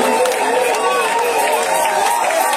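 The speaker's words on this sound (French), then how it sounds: "Est-ce que quelqu'un peut acclamer le ressuscité du troisième jour?" A church congregation at a Thursday worship service cheers and acclaims in a sustained, dense crowd roar of mixed voices, loud and close, with calls and shouts blending together throughout.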